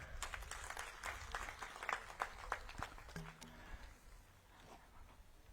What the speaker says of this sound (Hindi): मैं चाहूंगा कि नरेंद्र मोदी जी के लिए भी आप लोग जोरदार ताली बजाएं